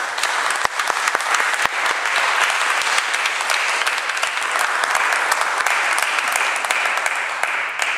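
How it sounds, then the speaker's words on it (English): Steady, loud applause from a church congregation fills the whole stretch, dense clapping without pause and no voices over it. "So let's give them another round of applause."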